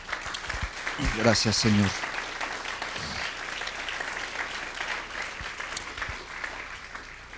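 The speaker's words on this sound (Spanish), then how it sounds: "Dale un aplauso a tu Dios." Church congregation applauding during a sermon, steady moderate clapping filling the space, while a voice speaks briefly over it near the start.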